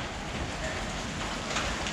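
Rain pours down outdoors in Nepal where children keep playing, a dense, continuous hiss of drops hitting the ground at steady volume with no voices standing out.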